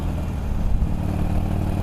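A motorcycle fitted with Vance & Hines slip-on exhausts rumbles low and close, with a brief swell like a short rev near the middle before settling back to a steady idle.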